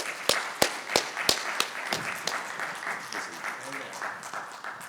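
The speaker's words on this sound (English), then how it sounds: "Big applause for Carlos." An audience at a television industry conference breaks into applause as a guest is called up on stage: a few sharp, distinct claps at first, then a denser patter of clapping that slowly thins and fades.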